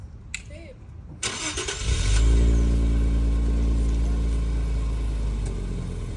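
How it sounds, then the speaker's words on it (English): An Infiniti Q60 Red Sport with its stock exhaust cranks and fires up, a short starter whir followed by a strong catch and rev that settles into a deep, steady idle, close to the car. "Stock red sport exhaust."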